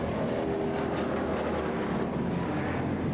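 A street stock race car engine at Bernal Memorial Raceway runs rough and down on power, a steady, muffled roar with no pauses and no voices over it.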